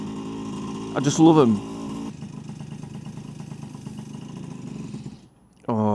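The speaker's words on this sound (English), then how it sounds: "You cannot beat the sound of a two-stroke." The two-stroke engine of a Vespa PX125 scooter putters close by at a low, steady idle with a brief rise in revs, then falls quiet before catching again, while a person speaks briefly over it.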